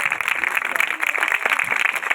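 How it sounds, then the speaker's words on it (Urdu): Congregation clapping hands together during a church worship service, a dense, steady patter of many hands close by, continuous throughout with some voices faintly mixed in. "تالیاں بجائیں گے کھول کے بجاؤ"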